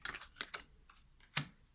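Playing cards being shuffled make quick, crisp papery riffles and taps, several short bursts close by with a louder snap near the end and no talk.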